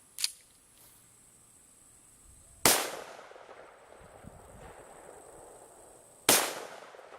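Two sharp, loud pistol shots from a Rock Island Armory 1911 firing 22 TCM at a shooting range, with a faint pop before the first and each report decaying into echo.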